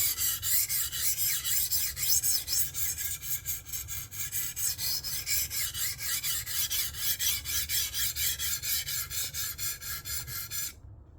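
A knife is sharpened on a TSPROF Kadet Pro sharpening system, with fast rhythmic rasping strokes of blade on stone, evenly repeated and close, which stop abruptly at the end.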